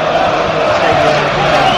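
A big stadium crowd urging Arsenal on late in added time against FC Porto, a loud, unbroken roar with a commentator's voice over it.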